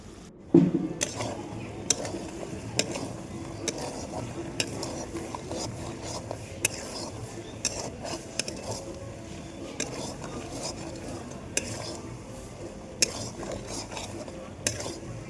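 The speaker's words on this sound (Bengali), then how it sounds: "এবার দিলাম মশলাটা। এবার ভালো করে কষিয়ে নেব।" Mutton sautéed with spices in a pot over a clay stove, stirred with repeated sharp metallic scrapes and clanks of a spoon against the pot at an irregular rhythm over a low sizzle.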